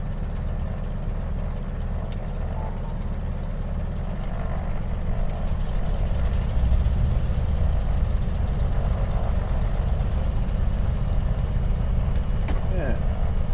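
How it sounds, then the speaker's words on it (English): An aircraft's right engine starts and runs up, a low heavy drone that builds in loudness midway and then holds steady, close and continuous. "Let's go ahead and start the right engine."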